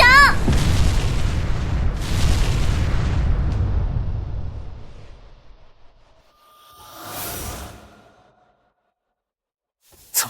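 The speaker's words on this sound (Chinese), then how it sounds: "黑罐头大哥，我的五彩大炮味道不错吧？" Cartoon cannon fire and explosions from an animated fantasy battle: heavy booming blasts that rumble and fade over several seconds, a softer whooshing swell afterward, then one sharp closing bang.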